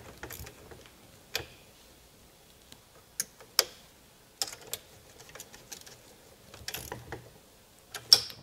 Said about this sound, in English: we're going to tighten the screws that are here, letting the nut do most of the work